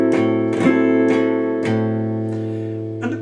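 Guitar chord strummed in 12/8 time, a series of ringing strums with sustained harmonic tones, several close attacks repeating in a steady rhythm and decaying between hits.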